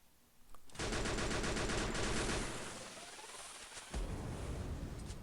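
Rapid automatic gunfire from the video game Free Fire, a dense burst of shots followed by trailing echoes and a second sharp shot near the end, fairly quiet overall.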